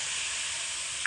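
Steady, loud sizzling hiss as water hits sugar that has been fried until red and caramelized in a pan, a continuous rush of steam with a small bump at the very end and no voices.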